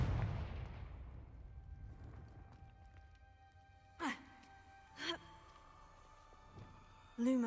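A Confringo fire spell in the Hogwarts Legacy video game sets off a deep blast that rumbles and fades over about two seconds. Short, sharp magical bursts follow a few seconds later against a quiet background.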